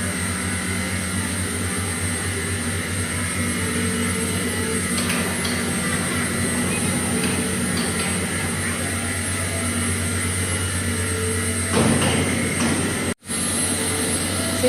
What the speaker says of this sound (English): This is our long peak blower. This is Teco motor.